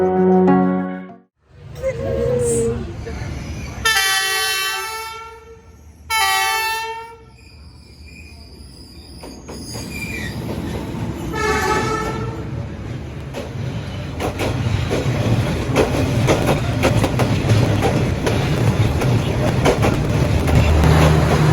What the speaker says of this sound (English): I was lucky enough to just be sitting here having a coffee when the train went past